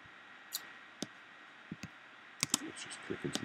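A computer mouse clicking during work in Maya, a handful of sparse, sharp, quiet clicks spaced irregularly, ending in a quick cluster of three, close-up with no voices.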